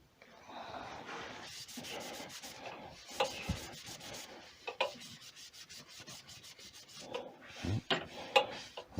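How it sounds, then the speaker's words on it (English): Shellac-based sanding sealer is rubbed by hand into a wood-turned lamp piece, giving soft, uneven scrubbing and swishing strokes at close range, with occasional louder rubs and light knocks. "Rub it in, make sure everywhere gets the same coat"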